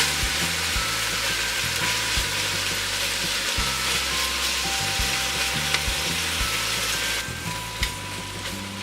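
Ground beef browning in a pan for chili, a loud, continuous sizzle with scraping and stirring strokes throughout, heard up close and alone.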